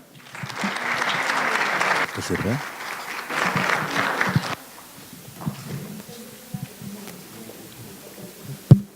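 A crowd applauds steadily for several seconds, briefly dips and swells again, then fades out as a voice speaks and a mic is handled.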